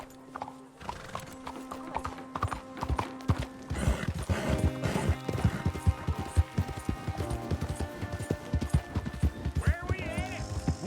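Hooves clip-clop in a fast galloping rhythm, with a horse whinnying and other game sound effects layered over it, in Red Dead Redemption 2.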